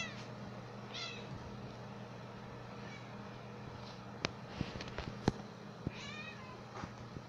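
A house cat meows a few times from close by in a quiet room, short rising cries spread across the stretch with faint clicks and rustles between them, while a person speaks softly nearby.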